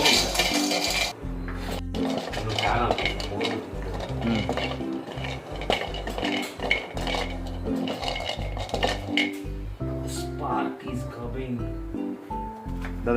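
Cashew nuts being roasted and stirred in a pan over a high flame: repeated close scraping and rattling strokes with metallic clinks, steady and rhythmic throughout.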